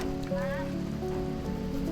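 Steady pouring rain in Vigan falls as a constant soft hiss on surfaces, with people talking quietly over it throughout.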